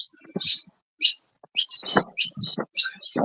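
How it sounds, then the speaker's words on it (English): Noisy miner birds call in a rapid series of sharp, high chirps over about three seconds, fairly close and loud, with bits of low talk mixed in between the calls. "Them birds have started up again."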